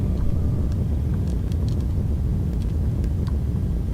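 An Embraer 175 roars with its thrust reversers deployed during landing rollout, a loud steady rumbling engine noise heard from inside the cabin.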